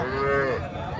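A calf at a busy cattle market lets out a single close, drawn-out moo lasting about a second, with faint market background beneath it.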